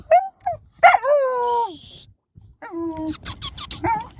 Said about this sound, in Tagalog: di natin kilala kung kaninong aso to